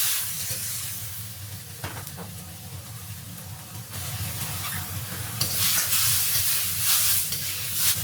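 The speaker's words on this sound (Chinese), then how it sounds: "锅里留底油，把西红柿倒入锅中， 加1勺水，继续翻炒" Tomatoes stir-fry in a little oil in a wok with a spoonful of water added, giving a steady loud sizzle and steamy hiss with occasional scraping stirs, swelling louder toward the end.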